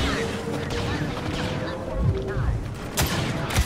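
Rapid blaster gunfire crackles through a Star Wars Battlefront II multiplayer match, dense and steady with heavier thumps near the end, while players talk over the shooting.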